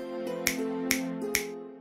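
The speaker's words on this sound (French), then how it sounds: "D'un claquement de doigts" Three crisp finger snaps, evenly spaced and close, ring out over a sustained tonal music bed in a French telling of Aladdin, where the genie snaps to summon a palace.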